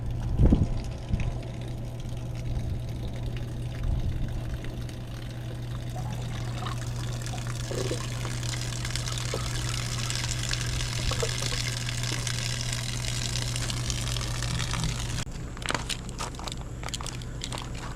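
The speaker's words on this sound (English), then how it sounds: "Remove your screen and let all the water run out of it." Water draining out of a Truma RV hot water tank after its screen is removed, a steady continuous gush and trickle that runs for most of the stretch before easing near the end.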